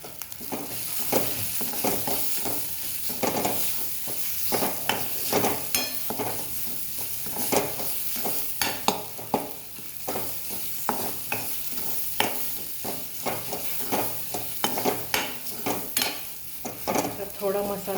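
Turmeric, garam masala, coriander-cumin powder and salt sautéing in a pan for haryali chicken, steady frying hiss punctuated by repeated scraping strokes of a spoon against the pan, heard close.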